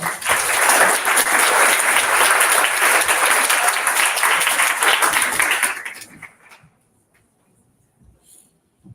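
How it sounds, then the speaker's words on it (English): A presentation audience applauds the teams after a final pitching session, a dense, loud burst of many hands clapping that holds steady for about six seconds, then trails off into near silence. "Let's give all the teams a round of applause."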